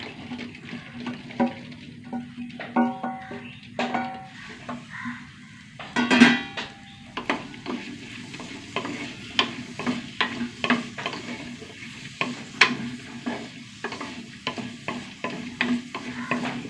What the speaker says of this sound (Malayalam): വെണ്ടയ്ക്ക ഒന്ന് നന്നായി വഴറ്റിയെടുക്കണം കേട്ടോ